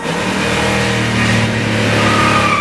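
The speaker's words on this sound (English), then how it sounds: "He hits the gas of the truck." A truck engine revs loudly and steadily as the gas is pressed, a close, sustained drone rising slightly in pitch, with no talking.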